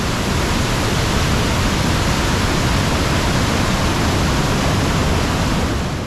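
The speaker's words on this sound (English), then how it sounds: "finally we've made it to the waterfall." Colombian waterfall roaring as a steady, dense, unbroken wash of loud broadband noise, close and continuous, with no voices.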